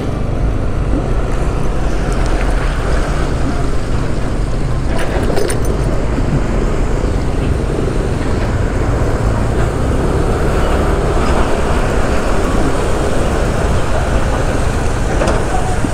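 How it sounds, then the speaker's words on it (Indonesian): A trailer truck rolls past close by on an Indonesian road, a heavy, continuous engine and tyre rumble that stays loud for the whole stretch. "Ini truk trailer nih cuy."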